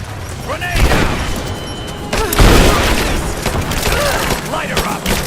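Heavy combat in Rise of the Tomb Raider: a booming grenade blast rolls through continuous gunfire, with shouted voices and whistling, dense and loud throughout.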